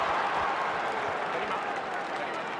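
Crowd applause in the stands at a 2013 AFL match between Carlton and Port Adelaide, a broad roar of clapping mixed with crowd noise, steady throughout and heard from a distance.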